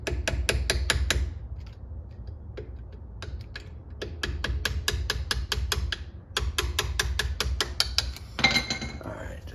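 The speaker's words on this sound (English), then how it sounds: "I'm using a screwdriver now just to finish it off." A screwdriver clicks and taps against a clip on a Brembo four-piston brake caliper during a PowerStop Z26 pad install, with rapid bursts of sharp metallic ticks separated by brief pauses.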